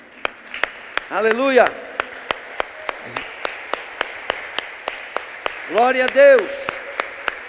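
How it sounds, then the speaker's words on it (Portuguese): Church congregation clapping in a steady, rhythmic beat during a worship service, sharp regular claps running throughout while voices shout praise over them in Portuguese. "dar uma salva de palmas para Jesus?"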